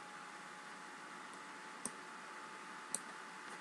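Two crisp computer mouse clicks, spaced about a second apart, stand out faintly over a steady background hiss during Solidworks work.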